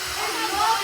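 A hair dryer blowing steadily upward with a ball held in its airflow, a continuous broadband whoosh with a faint whine, close and loud throughout.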